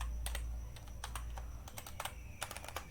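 Rapid typing on a computer keyboard while entering Java code, clusters of crisp close key clicks in irregular bursts with brief pauses, alone without talk.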